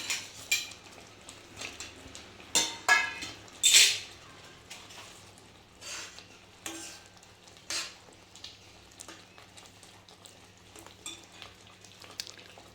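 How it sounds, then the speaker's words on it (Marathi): Paneer cubes go into boiling gravy in a pan, with sharp clinks and knocks of a spoon against metal followed by softer stirring and faint bubbling, close up, with no talking. "आता ह्याच्यात पनीर टाकून घेते."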